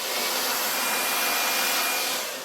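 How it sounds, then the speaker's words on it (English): A hairdryer blows hair during styling, a steady close whooshing hiss that runs unbroken for a couple of seconds and fades slightly at the end. "Let's see how it goes with the hairdryer this time."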